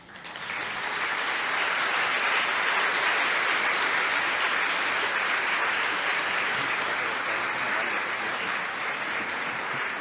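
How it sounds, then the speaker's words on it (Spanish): An audience applauds a speaker, Dra. Rosa María Torres Hernández, at an education talk; steady, dense clapping swells in within the first second and holds loud and even for the full stretch, with no voices over it. "fuerte el aplauso para la doctora Rosa María Torres Hernández"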